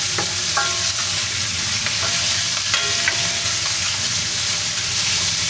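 Chicken gizzards and mushrooms fry in a pan, with a constant loud sizzle and occasional stirring scrapes and clinks throughout, and no voices.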